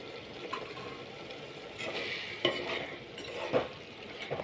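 Tomatoes sizzle softly in a pan while a utensil stirs and scrapes against the metal now and then.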